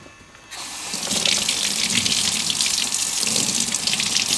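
Tap water runs steadily as zinc samples treated with patinas are rinsed, a continuous close splashing rush that starts abruptly after a short quiet moment and holds at an even level.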